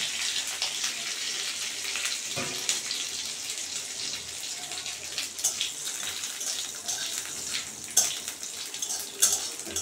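Bay leaf, radhuni, black cumin and five-spice seeds tempered in hot oil for a pumpkin-stem and silver carp fish dish give a steady, close sizzling hiss, broken by a few sharper crackles and spits, with no talking.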